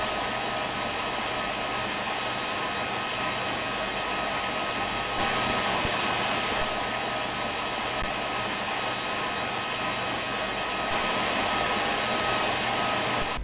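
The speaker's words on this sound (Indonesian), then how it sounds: "Pengering rambut." A hair dryer runs continuously with a steady, even whooshing hum that stays at the same level throughout.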